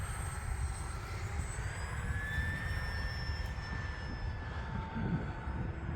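An Arrows RC model P-51 Mustang flies overhead with a steady electric whine whose pitch slowly rises and falls as it passes, carried over a constant outdoor rumble of wind.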